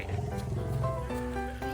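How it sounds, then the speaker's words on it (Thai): An elephant at a bathing pool, where a herd is heading into the water, gives a loud, sustained, throaty roar with a tonal quality that lasts the whole moment and sounds close, with no voices over it. "มีการคำรามด้วย"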